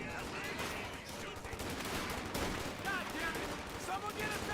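Gunfire from the Company of Heroes 2 strategy game rattles continuously at a moderate level, with bursts of rifle and machine-gun shots layered over battle noise and occasional whistling sounds.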